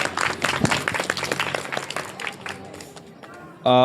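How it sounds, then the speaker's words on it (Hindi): A crowd at a BJP ward 4 gathering claps loudly for a candidate, with dense applause that fades out before a brief burst of another sound at the end. "जोरदार ताली बजाइए इनके लिए सब लोग"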